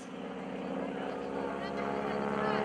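A 600-horsepower aerobatic airplane engine drones at an airshow, a steady propeller hum that grows slightly louder over the clip while an announcer talks over it.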